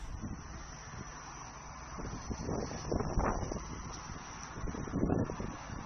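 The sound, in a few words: wind blowing on microphone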